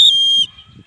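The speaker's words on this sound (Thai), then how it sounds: "วิธีการใช้สัญญาณนกหวีดของลูกเสือเนตรนารี" A single loud, shrill scout whistle blast, close and piercing, cut off abruptly after under half a second, followed by faint background noise.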